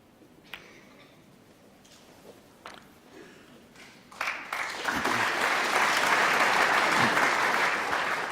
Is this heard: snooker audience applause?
yes